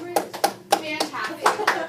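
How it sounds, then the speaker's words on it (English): Applause from a classroom audience after a student's argument presentation, a scattered round of hand claps with uneven bursts lasting about two seconds, with some voices mixed in. "Can we just have a round of applause?"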